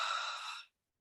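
A single breathy exhale pushed out through the mouth during a slow breathing exercise, a soft, airy rush lasting under a second before cutting off into silence.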